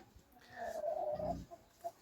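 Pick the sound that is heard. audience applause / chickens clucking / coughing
chickens clucking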